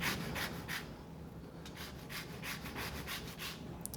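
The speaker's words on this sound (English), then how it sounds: "we're gonna zest some lemon" A lemon rubbed against a zester in a home kitchen, heard as quiet, rhythmic rasping strokes that repeat steadily over a low background hum, with no voices.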